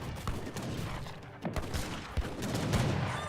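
Musket gunfire in the video game Age of Empires 3, a rapid scatter of overlapping volley shots and cracks over busy battle noise, fairly loud and continuous.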